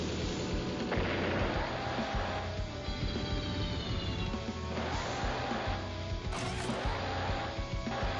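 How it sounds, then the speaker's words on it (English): Rocket unit fire in Advance Wars: Days of Ruin: a dense, continuous barrage of booming game blasts with crackling bursts, loud and steady over a backdrop of game music, with no pauses. "Another rocket."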